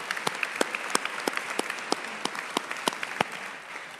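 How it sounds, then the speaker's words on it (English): Honored guests, including an honorary board member, receive a round of applause at a school district education celebration. Scattered, individually distinct claps ring out at an uneven, slow pace over a soft bed of lighter clapping, thinning toward the end. "let's please join me in a round of applause for them"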